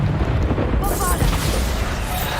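A Bombarda blast spell from Hogwarts Legacy, a loud close boom with a broad burst of crackling debris that rings on for about two seconds without talk.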